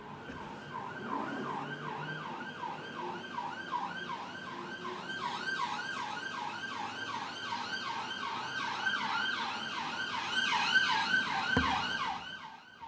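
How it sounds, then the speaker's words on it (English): An emergency vehicle siren wails in repeated rising and falling sweeps as it passes along a street, steady then swelling louder near the end, heard alone without talk. "And your obligatory siren is coming up now"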